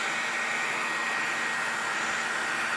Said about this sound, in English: We're gonna hit it with the old blow dryer.